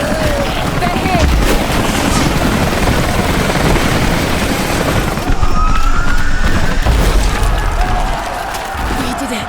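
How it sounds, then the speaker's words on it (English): Military helicopters arriving in the video game Rise of the Tomb Raider, a dense, loud rotor roar with gunfire-like bursts and distant siren-like tones, continuous throughout. "Those choppers should be in range soon."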